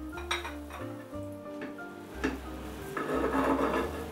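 A serving spoon scrapes and clinks against a stoneware dish while a portion of panettone pudding is lifted out, with several sharp taps and knocks over a low hum, then soft scraping and rubbing.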